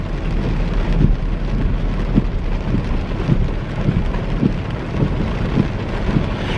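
Heavy, steady rain falls in a continuous dense hiss with a low rumble and some wind buffeting on the microphone, with no voices.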